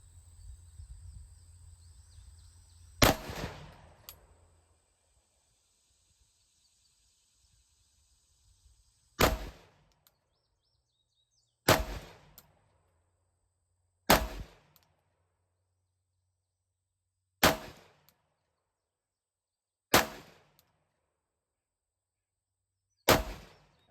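Seven sharp gunshots ring out one at a time, several seconds apart, while testing an Olight OSight red dot sight, each a loud crack with a short decay in otherwise quiet surroundings.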